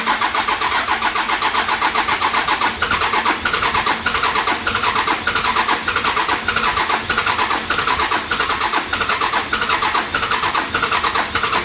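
A 12-volt engine cranks over repeatedly before its first start while fuel lines are bled, a loud, evenly pulsing starter churn that keeps a steady rhythm throughout without catching.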